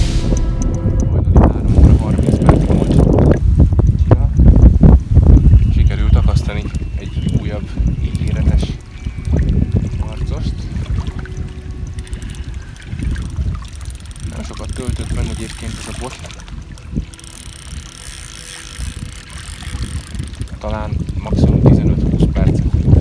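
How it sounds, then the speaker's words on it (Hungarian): Strong gusting wind roars and whistles steadily across the microphone outdoors at a fishing lake, whistling on a fishing line, loud and continuous throughout, with no clear voices. "Lehet is hallani, hogy süvít a szél a zsinóra."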